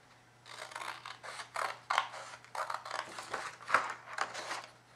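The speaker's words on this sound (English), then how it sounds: "you're going to just cut along the scored line" Scissors snip through card stock along a scored fold line for a card box, a close, steady series of crisp, papery cuts in a quiet room.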